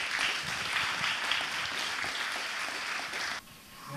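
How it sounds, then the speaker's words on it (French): Steady audience applause at a conference fills the room, a dense clatter of many hands clapping that cuts off abruptly near the end, leaving a quieter murmur. "Je vous propose d'applaudir nos intervenants."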